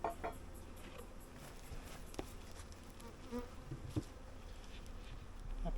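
Honey bees buzz steadily around an open nucleus hive during an inspection at a home apiary, a continuous close insect drone with a few brief knocks and handling sounds, no voices.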